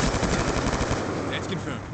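M27 assault rifle in Black Ops II firing a fast, steady automatic stream, loud and close across the whole stretch with a slight fade at the end.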